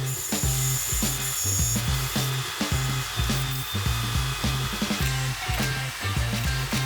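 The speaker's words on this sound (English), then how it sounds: "Here, the pivot bushing is turned out of brass." A metal lathe turns a brass pivot bushing for a clamp, producing a steady loud whine with rhythmic repeating chatter and hiss throughout, close up with no voices.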